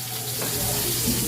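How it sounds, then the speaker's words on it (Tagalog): Fish, tulingan (bullet tuna), sizzles and crackles in a hot pan up close, a steady frying hiss throughout. "At nagpiprito tayo ng tulingan para kay Tolits."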